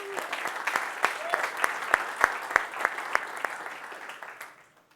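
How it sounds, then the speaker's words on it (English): Conference audience at a security event applauds for Draeger, a burst of sharp distinct claps rising to a peak around the middle and fading out near the end, with a faint voice briefly underneath. "So how about a round of applause for Draeger?"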